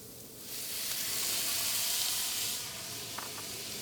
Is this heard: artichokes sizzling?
yes